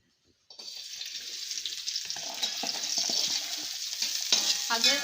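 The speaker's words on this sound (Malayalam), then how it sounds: "ചെറുള്ളി അരിഞ്ഞിട്ട് ഇട്ട് കൊടുക്കാം." Chopped shallots hit hot oil in a pan for goat curry and fry with a steady, bright sizzle that builds after a short silence, with stirring scrapes and clinks throughout and no talk.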